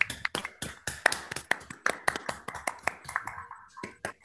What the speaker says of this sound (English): let's turn on our microphones and give a round of applause